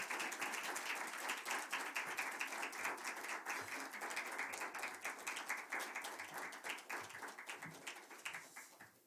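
A church congregation applauds to welcome a visiting pastor before a sermon at a prayer service, a steady flurry of many hands clapping, crisp and sustained, tapering off at the end.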